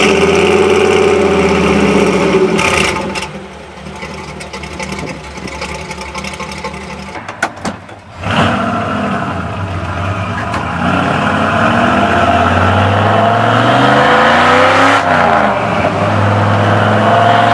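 An old Ford F100 truck engine on a cold start idles with a rough, rumbling drone, cuts briefly, then catches and keeps running, with some revving toward the end.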